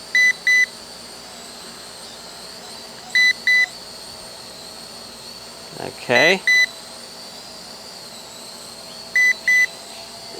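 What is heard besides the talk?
drone beeping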